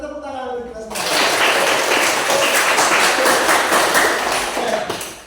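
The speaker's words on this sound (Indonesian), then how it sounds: "kita tepuk tangan untuk kita semua" A group of students and teachers in a church classroom session break into lively applause, dense clapping that starts abruptly after a moment of talk and holds steady for about four seconds before fading.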